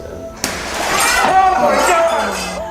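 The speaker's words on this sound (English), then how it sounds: "Something smashes the window out" Window glass smashes in a creepy abandoned house, a sudden sharp crash followed by scattering shards under ongoing talk and eerie background noise.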